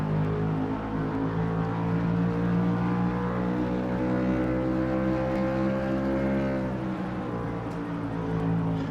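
Onboard engine roar of a stock race car circling Richmond in a NASCAR-style racing game, a steady loud droning hum with layered harmonics, held near-constant with a slight dip in pitch toward the end, no voices.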